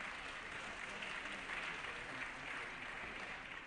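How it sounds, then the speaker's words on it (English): A crowd in a legislative assembly chamber applauds during a floor session, sustained dense clapping that holds steady for several seconds at a moderate distance. "Give him a round of applause."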